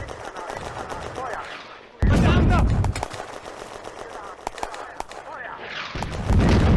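Soviet mortar rounds land in woods during a World War II tactical battle in the Firefight game, with heavy booming impacts, rattling gunfire bursts and a low rumble, and a voice speaking in between.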